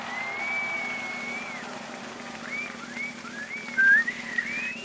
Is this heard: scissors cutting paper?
no